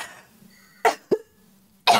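A voice imitates coughing: three short, sharp coughs in quick succession separated by quiet gaps, close and clear.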